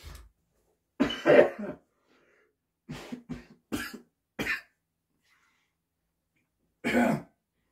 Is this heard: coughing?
yes